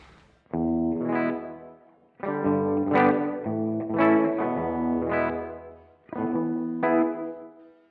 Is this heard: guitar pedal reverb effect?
yes